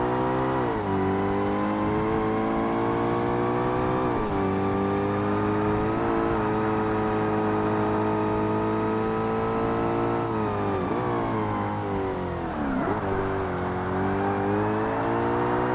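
A Ferrari race car engine roars in Forza Motorsport on Xbox, loud and close throughout, holding a sustained high rev with brief dips at gear shifts and corners, with no voices.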